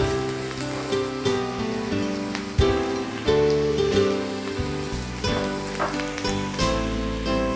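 Grated coconut frying in a pan for spicy kozhukattai, a dense continuous sizzle and crackle with a few stirring knocks, fairly loud and steady throughout.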